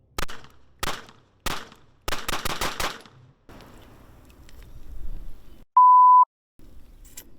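A Glock 43X pistol firing after a dunk in sandy, gritty water: a string of loud, sharp gunshots, three spaced then a rapid burst of five, followed by a low rustle and a short electronic beep.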